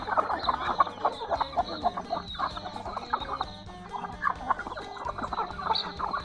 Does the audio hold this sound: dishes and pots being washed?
no